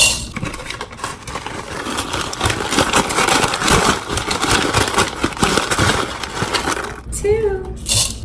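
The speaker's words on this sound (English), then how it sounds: "You get the grinder, you plug it in." A small electric coffee grinder whirs steadily as it grinds two tablespoons of coffee beans. The motor drone stays loud and continuous for most of the clip, then cuts out near the end as a voice briefly starts speaking.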